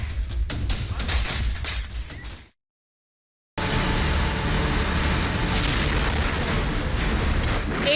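Explosions from multiple launch rocket system fire strike a city in the Ukraine-Russia war, a series of dense heavy booms and blasts, briefly cut to silence before the loud rumbling impacts resume.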